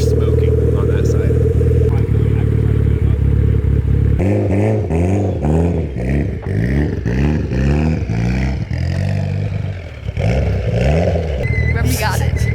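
An 1100HP Subaru STi with a smoking clutch revs and lurches in loud, surging bursts that rise and fall in pitch, the engine note dominating throughout with clattering underneath.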